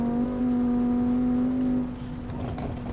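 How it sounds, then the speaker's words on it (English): A Mk6 Volkswagen Jetta in the BeamNG Drive game, a loud steady engine drone with a whining turbo tone that holds, then drops away as the revs fall and a softer whoosh follows. "it makes really good turbo noises"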